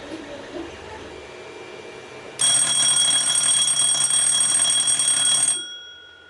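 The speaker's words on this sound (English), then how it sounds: "The arm goes up, so you'll get a fair amount of time before the arm triggers the bell." An electric bell on a 3D printer filament jam alarm rings loudly and steadily for about three seconds, a bright continuous metallic clatter that then cuts off, following a quieter stretch of background noise.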